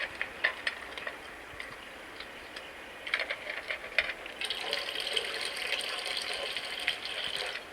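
Water is poured for a dog outdoors in a garden. A soft, steady gush of liquid builds in the second half over faint ticking and clinks, quiet and close.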